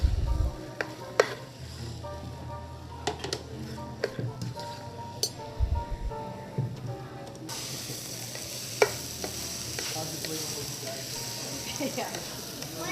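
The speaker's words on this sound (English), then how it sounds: "So we're going to saute these out" Peas and shallots sautéing in a pan, a low steady sizzle with scattered clinks and stirring scrapes, close but quiet, while a person talks over it.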